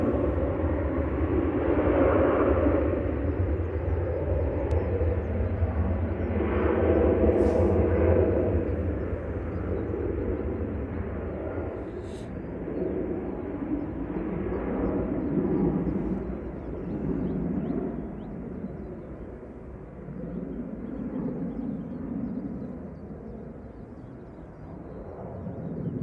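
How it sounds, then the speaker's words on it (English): Aircraft EI-EFY departing Manchester Airport for Faro as flight 4088, a loud, broad jet roar that swells and then slowly fades over about half a minute, heard alone without talk. "That's EIEFY departing back to Faro with flight 4088."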